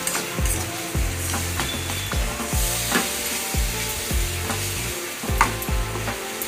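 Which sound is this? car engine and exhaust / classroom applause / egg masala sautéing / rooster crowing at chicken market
egg masala sautéing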